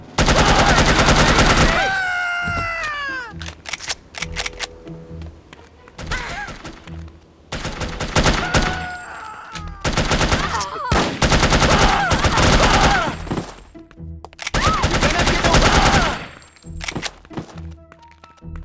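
Repeated gunfire bursts from the first-person shooter No One Lives Forever, loud and close, in several clusters with brief pauses, mixed with game music and effects; a voice speaks briefly between volleys.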